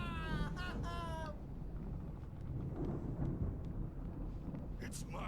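A thunderstorm rumbles in the video game Alan Wake, with deep, rolling low thunder and wind under a brief burst of voice-like tones at the start.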